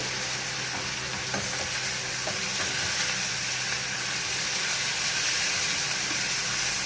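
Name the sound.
drumstick, carrot and brinjal frying in pan for sambar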